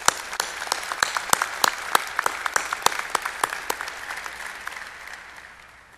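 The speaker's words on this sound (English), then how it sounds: "Please give them a round of applause." Audience applause at a college presidential inauguration ceremony, a sustained wave of clapping from a large crowd with sharp individual claps standing out, gradually thinning toward the end.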